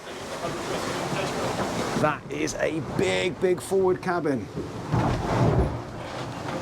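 Sailing catamaran hull, an Excess 13, pushing through waves, giving a steady broadband wash with occasional slaps under someone talking close by.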